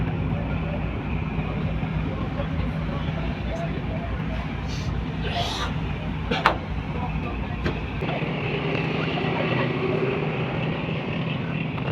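The engine of the Zakir Samrat 3 passenger launch drones steadily on a river between Nazirpur and Dhaka, a continuous low rumble with water and wind noise beneath someone talking.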